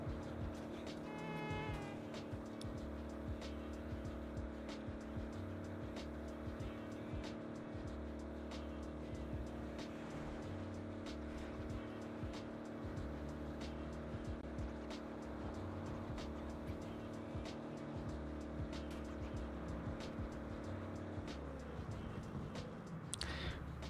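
Car driving against oncoming traffic in the Saints Row reboot game, a steady engine hum with passing traffic whooshes and light clicks, continuous at moderate loudness with no talk.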